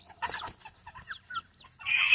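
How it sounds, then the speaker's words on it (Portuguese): A large hen clucks close by in a few short, sharp bursts, followed by a louder, higher squawk at the end. "Deixa eu tirar essa galinha grande aqui."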